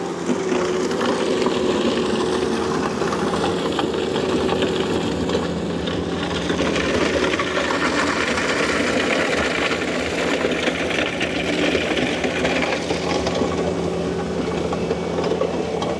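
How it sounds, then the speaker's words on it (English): A Bobcat T86 compact track loader running a brush grinding attachment through muddy ground, with a steady loud engine drone and grinding roar that holds continuously throughout, with no talk. "So we're gonna go over, grind this brush."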